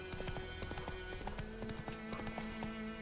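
Roach, the horse in The Witcher 3 video game, trots with quick, rhythmic clip-clopping hooves, quiet and steady over faint tonal game music.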